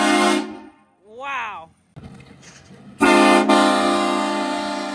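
Loud HornBlasters air horn on a 2022 Ford F-150 fitted with a 5-gallon Stealth Kit, blasting at the start and again as a long sustained blare at the end, with a brief voice exclamation and whistle-like sound in between.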